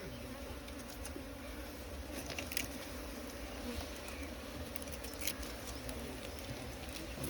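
Bees swarm around a hive during a honey harvest, a continuous low buzzing drone that stays steady and fairly faint throughout, with a few soft taps over it.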